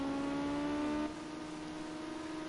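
A Ginetta Junior race car crosses the line at Monza with a steady, buzzing engine note that drops in pitch partway through as it passes, heard fairly close without talk.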